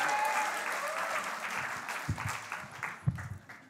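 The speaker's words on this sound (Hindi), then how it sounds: "स्वप्निल तिवारी जी का ज़ोरदार तालियों से स्वागत" Enthusiastic audience applause welcomes a poet onto the stage at a mushaira and kavi sammelan at IIT Bombay, a dense clapping wash with faint voices that thins out, a few louder thumps near the end.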